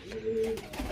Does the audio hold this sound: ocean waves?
no